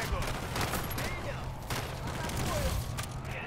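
Weapon fire in Call of Duty MW3 Zombies: rapid bursts of gunshots and booms, fairly loud and nearly continuous, with people talking over the game.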